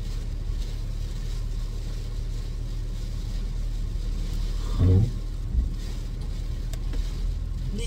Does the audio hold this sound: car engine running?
yes